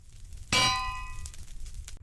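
A single bright metallic anvil clang rings out sharply and decays over about a second as a sound effect, alone over a quiet background.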